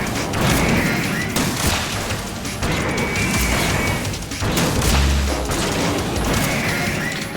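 Sustained gunfire in the Metal Gear Solid 2: Sons of Liberty finale, loud dense bursts of shots and crashing impacts running almost continuously, with brief dips between volleys.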